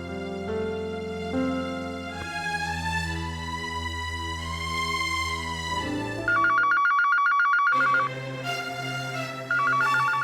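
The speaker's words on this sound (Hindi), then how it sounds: "इस वक्त अगर उस धनंजय का फोन हुआ ना" A musical phone ringtone chimes loudly over background music in a Hindi TV drama, a bright repeating electronic melody that starts partway through and returns near the end.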